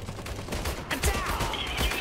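Gunfire in the strategy game Iron Harvest, a dense, continuous crackle of overlapping shots and bursts, loud and close, mixed with a busy battlefield background.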